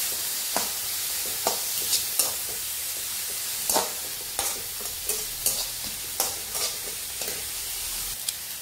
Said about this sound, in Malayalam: പിന്നെ സവാള നന്നായിട്ടൊന്ന് വഴണ്ടി വരും